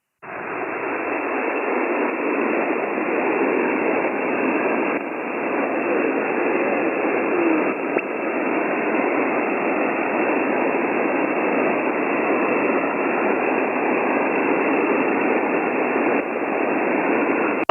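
Steady ham radio static with a weak signal sinking into the noise floor, heard on an HF receiver during a live amateur radio session on Icom IC-9700 and IC-7610 rigs, a continuous band-limited hiss that holds level throughout with no voices.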